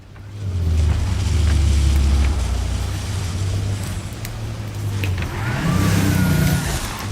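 A Porsche car in the video game Cyberpunk drives with a loud, steady engine drone, then revs up with a rising pitch near the end, mixed with in-game road and ambient noise and no speech.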